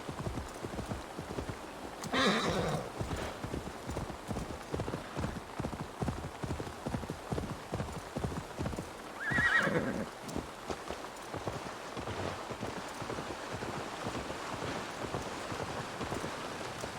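Rapid, rhythmic hoofbeats of a galloping horse in Assassin's Creed: Valhalla over a steady rain-like hiss, continuing throughout with a couple of brief louder whooshes.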